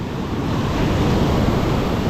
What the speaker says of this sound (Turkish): Önümüzde görüyorsunuz dalgalar biraz büyük.